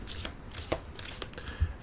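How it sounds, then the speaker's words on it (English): A small deck of disaster cards for the board game Very Bad Lands being shuffled by hand, a few quick papery riffles and taps, close and fairly quiet, with no one speaking. "will give them a good shuffle,"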